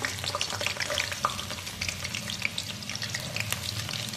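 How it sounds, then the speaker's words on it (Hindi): Chopped onions fry in hot oil in a karahi for a dhaba-style maash daal, a lively crackling sizzle with small popping spatters throughout, close and steady, with no speech. "देखेंगे हमारा तेल अब गर्म हो चुका है। अब हम इसमें प्याज डाल देंगे"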